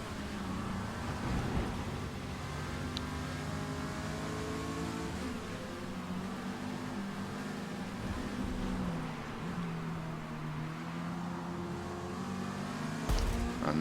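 A Mazda MX-5 racing engine drones steadily in the Forza Motorsport video game during a C-class race at Maple Valley, the revs rising and falling as it pulls down a straight among other cars, at a moderate, continuous level.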